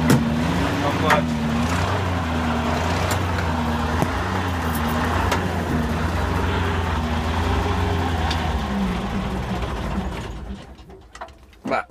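An FWD Tractioneer tractor engine runs with a steady, throbbing idle and a rhythmic mechanical clatter, close by. Near the end it cuts out and fades.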